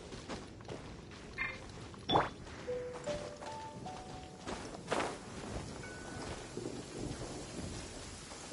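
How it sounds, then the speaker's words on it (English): Steady rain patters while low thunder rumbles now and then, with occasional footsteps and soft clicks, all fairly quiet and distant. "Taking a stroll in the middle of a downpour certainly rouses the spirit."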